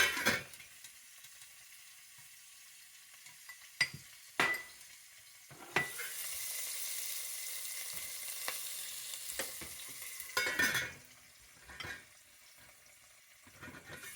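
Green chilies and curry leaves hitting hot oil already holding mustard seeds and cumin for poha, a sharp crackling sizzle that swells and fades with several clanks of utensils and a pot lid, close and alone.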